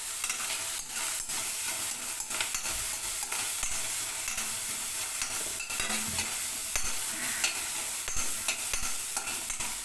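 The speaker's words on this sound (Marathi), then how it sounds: "चिरलेला कांदा टाकून घेऊ. थोडं त्याला हलवून घेऊया" Chopped onion fries in a pan for Katla fish curry, with a constant hissing sizzle and frequent quick scrapes and taps as it is stirred, nearby and unbroken by speech.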